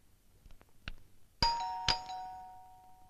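A doorbell rings at a home, two bright chime strikes about half a second apart, each ringing on with a long, clear decay. Softer knocks and taps come just before, and no one speaks.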